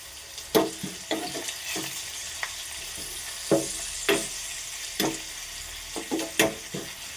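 Shallots, dried red chillies and curry leaves fry in hot oil for a Kerala-style tomato curry, a soft continuous sizzle punctuated by irregular sharp spoon scrapes and clinks against the pan, close by, with no speech.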